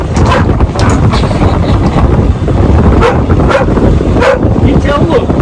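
Luna the dog barks and yips from a boat at passing windsurfers and kite surfers, loud and close over heavy wind noise, with people talking throughout.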